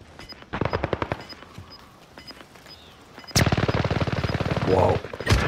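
Bursts of automatic gunfire in a battle royale video game, scattered rapid shots early on, then a loud sustained volley of fire near the listener with quick repeated cracks.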